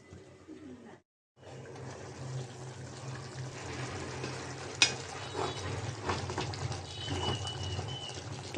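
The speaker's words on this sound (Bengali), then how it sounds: "একটু নাড়াচাড়া দিয়ে দেই, না হয় নিচে লেগে যেতে পারে।" Beef curry with new potatoes is stirred in a pot as the meat browns, giving a continuous scraping, bubbling kitchen noise with a short silent gap near the start.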